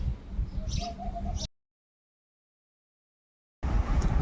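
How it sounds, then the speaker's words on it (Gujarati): A peahen calls in a home courtyard in the evening, giving a short run of repeated mid-pitched notes over background noise. The sound then cuts to silence before ambient noise returns. "આ ઢેલ છે."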